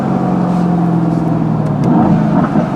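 A Mercedes AMG GT S engine with its exhaust valves open, a loud, steady close-up rumble with a throaty low hum that shifts slightly in pitch as the car moves in first gear.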